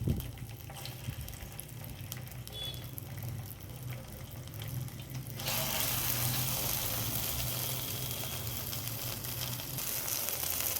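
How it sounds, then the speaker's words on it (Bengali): Bhetki (barramundi) fish fillets frying in a pan with only a little oil, a steady hissing sizzle that swells louder partway through and carries on without talk. "মাছটা ভাজা হচ্ছে।"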